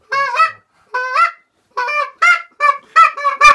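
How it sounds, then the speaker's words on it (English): A goose call blown in a series of short, nasal honks, about seven bursts spaced irregularly and growing quicker toward the end, close and loud with no talking. "I think this is a goose call"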